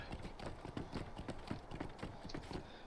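A horse's hooves clip-clop at a steady trotting rhythm in the online game LOTRO, the regular hoofbeats soft and fairly distant with no talk over them.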